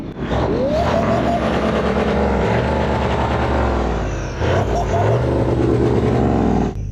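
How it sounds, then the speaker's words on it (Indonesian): A loud car engine with a cutout exhaust valve rumbles and revs with a deep exhaust note, while voices talk over it. "Knalpot yang ada di bawah sana ada katup cutout."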